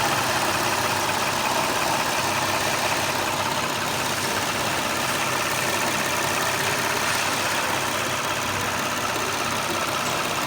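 A car engine idles steadily and evenly for the whole stretch, a constant rumbling hum with no voices.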